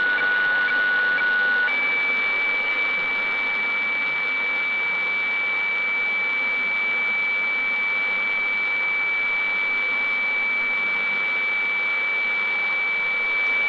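A steady, unbroken electronic radiofax test-pattern tone on a Sangean 909 shortwave radio hums continuously over a hiss of static, unchanging from start to finish.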